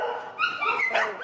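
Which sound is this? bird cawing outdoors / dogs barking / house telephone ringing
dogs barking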